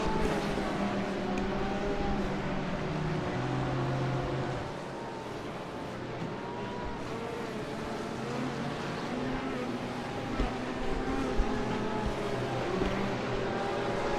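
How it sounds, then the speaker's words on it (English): Race cars including BMWs, a Porsche and a Lamborghini roar around Daytona International Speedway in a sim-racing game, a steady layered engine drone with shifting pitches and no clear pass-bys, under quiet background talk. "Those two BMWs right next to each other, followed by the Porsche and the Lamborghini"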